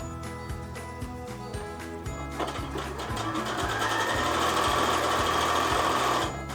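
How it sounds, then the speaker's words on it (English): Sewing machine stitching fabric strips continuously for a quilted patchwork bag, giving a rapid even mechanical chatter that starts quieter and then grows louder and fuller, close up and alone. "I'm not going to cut the stitches in between my first strips and my second one. I'm just going to keep on sewing."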